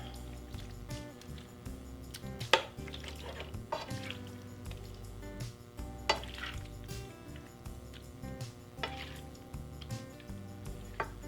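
Pasta being spooned into a bowl, bowtie pasta with chicken sausage and spinach, giving soft wet squishes and a few clinks of spoon on bowl over a steady kitchen background hum.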